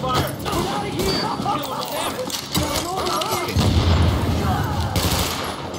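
Suppressive gunfire in The Division fighting looters, rapid bursts of shots and impacts in dense clusters under excited overlapping game voices and player talk.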